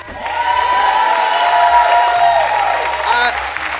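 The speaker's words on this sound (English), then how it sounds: "can we have a round of applause for Paul, guys?" An audience in a studio applauds and cheers for Paul, a contestant in the Talent Search Cymru 2023 final, with sustained clapping beneath a loud musical sting and tonal swells that dominate the mix.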